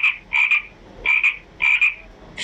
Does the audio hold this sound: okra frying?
no